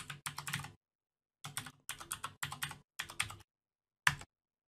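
Bursts of typing on a computer keyboard while renaming a bone in Blender rigging software, several quick clattering runs of keystrokes separated by pauses, ending in a single sharp keypress, close and clear with no talking.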